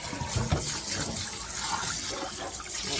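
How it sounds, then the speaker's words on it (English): Hot water runs from a tap into a rusty cast iron pan, a soft continuous splashing and gurgling that stays faint and steady throughout. "I'm going to run some nice hot water in here."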